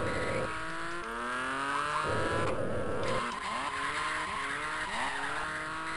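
Tires squeal and skid as a car brakes hard in a Sega-era arcade racing game, the screech sliding in pitch over a steady engine whine with game music, continuous and loud.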